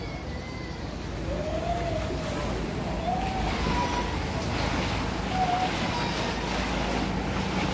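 Strong sea waves wash against a public pier at Sai Kung, Hong Kong, during heavy rain, a continuous loud wash of water and rain noise with wind buffeting the microphone throughout.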